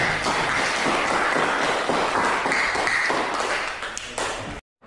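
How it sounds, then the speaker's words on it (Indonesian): Students in a science classroom clap for group presentations, a dense, steady patter of many small hands that holds close and loud for about four seconds before stopping abruptly. "Beri tepuk tangan dulu"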